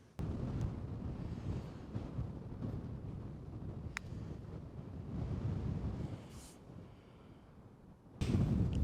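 Heavy wind, gusting about 25 to 30, buffets the microphone on a golf course in a steady low rumble, swelling and easing, with a strong gust hitting at the end.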